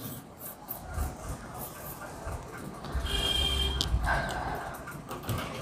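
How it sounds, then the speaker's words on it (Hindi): Writing is rubbed off a classroom board, heard as close, uneven scrubbing and rasping strokes of moderate loudness over a few seconds, with no speech. "मैं इसको रब कर देती हूँ"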